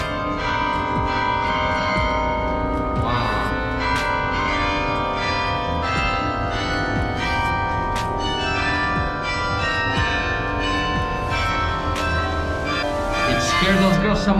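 Church bell ringing inside the Torre dos Clérigos tower in Porto, loud and close, with overlapping tolls ringing out under excited voices and a shriek near the end.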